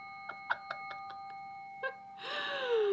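Hand bells ringing at a Day of the Wren celebration, several quick separate strikes with sustained ringing tones, then a louder, denser wash of bell sound near the end.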